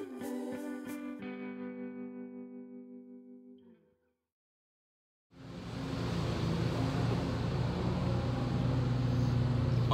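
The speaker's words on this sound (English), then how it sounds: "that's the wife and mother-in-law on lawnmowers mowing the grass" Lawnmowers cutting grass near a honey house. After a wavering tone fades into brief silence, a steady, loud engine drone comes in and holds to the end, with no talk.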